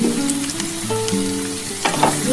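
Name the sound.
drumsticks and potatoes frying in oil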